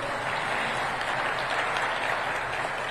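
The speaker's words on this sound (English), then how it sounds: "please, let's give a round of applause to our panelists" Audience applause for panelists at an African food systems forum, steady and continuous clapping from a large hall crowd, heard at a distance with no talk over it.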